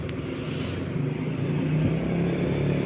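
Two buses, a Laju Prima and a Garuda Mas, rumble past on the Cepu–Blora–Purwodadi road. A steady low engine drone and tyre roar hold nearby throughout, with no voices.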